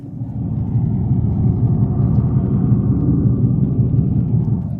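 Low, steady synthetic engine rumble from the speakers of a 2025 Dodge Charger Daytona Scat Pack AWD electric car in drag mode, a constant deep drone heard close with no voices.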